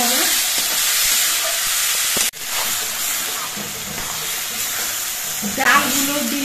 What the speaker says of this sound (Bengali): মুসুরির ডাল দিয়ে নেড়ে চেড়ে মশলার সঙ্গে আরো কিছুক্ষণ কষিয়ে নিতে হবে